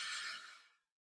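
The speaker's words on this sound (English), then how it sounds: "take a nice deep breath in" A single deep inhale, drawn in as a breathing exercise for singers, loud and airy at first and tapering off to silence in under a second.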